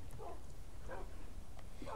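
Dogs in a Minecraft game give off three short bark-like yips at roughly even intervals. They are fairly faint and sit over a steady low background rumble, and no one is talking.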